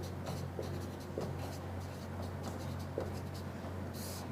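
Chalk or marker writing numbers on a classroom board, with short scratchy strokes and taps repeated in quick bursts, faint over a steady background hum.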